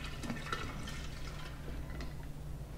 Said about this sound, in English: So I'm just gonna pour all this beer in.